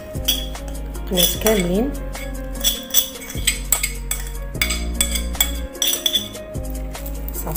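Cutlery spreading drained canned tuna over a Moroccan mimosa salad on a dish, making repeated light metallic clinks and taps in an irregular rhythm, close by, while a person talks throughout.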